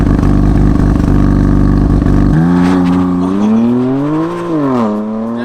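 BMW M4 Competition on launch control, engine held at a loud, rapid stuttering two-step limiter, then launching away with rising revs through shifts and pops, fading as it pulls off.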